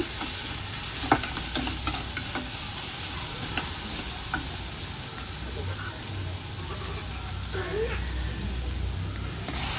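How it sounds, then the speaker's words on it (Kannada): A couple of inches of cinnamon stick and four cloves fry in a pan as a sambar base begins, giving a steady close sizzle broken by a few light clicks from stirring. "ಒಂದೆರಡು ಇಂಚು ಚಕ್ಕೆ ಒಂದು ನಾಲ್ಕು ಲವಂಗ ಸೇರಿಸಿದ್ದೀನಿ ಅದನ್ನ ಸ್ವಲ್ಪ ಫ್ರೈ ಮಾಡೋಣ"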